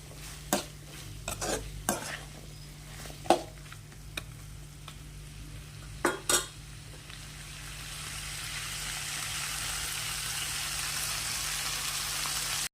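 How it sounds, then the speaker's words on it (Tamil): Green chilies and boiled chickpeas being sautéed in oil in a pan, with several sharp spoon scrapes and taps against the pan early on, then a steady close sizzle that swells toward the end, no talking. "வேக வச்ச மூக்கடலையும் எடுத்து இது கூடவே சேர்த்து நல்லா மிக்ஸ் பண்ணி பச்சை வாசனை போகிற வரைக்கும் நல்லா வதக்கிக்கிட்டே இருங்க."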